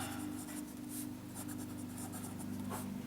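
A vintage Sheaffer Snorkel fountain pen with a fine nib scratches steadily across paper, a close, continuous soft scraping with light strokes and small bursts as the nib moves.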